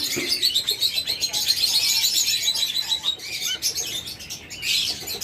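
Pet birds kept for sale as breeding pairs chirp and tweet in a steady, busy chorus of many overlapping calls, fairly close and continuous, with occasional wing flutters and no talking.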